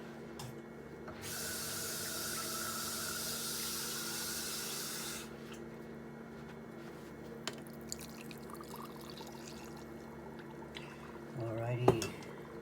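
Water pours steadily into a pot for karhi, a smooth rushing hiss that lasts about four seconds and then stops, leaving quiet kitchen background with a few small clinks.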